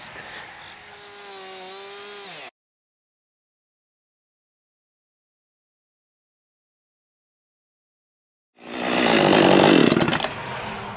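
A chainsaw engine whines briefly, cuts to silence, then roars back loudly as the blade bites into a massive maple log, close by.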